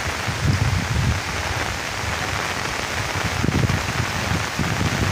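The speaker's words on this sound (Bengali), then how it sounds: "কীরকম বৃষ্টি না এটা" Heavy monsoon rain pours steadily beside the Barak river in Silchar, Assam, a close, loud and continuous wash of raindrops with gusty low rumbles underneath.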